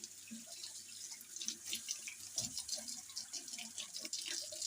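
A dirty garden herb plant rinsed under a running kitchen tap before making herbal tea, water splashing and pattering unevenly with drips, close and fairly quiet, no talking.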